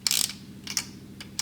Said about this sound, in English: When we torque the cam caps, we're going to torque them to about 19 foot-pounds.